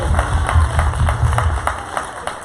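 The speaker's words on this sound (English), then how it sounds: "give Sister Spears a hand clap of praise." A church congregation claps for Sister Spears as she stands on stage, giving a hand clap of praise: steady, fairly loud applause with rhythmic bursts over a low room rumble.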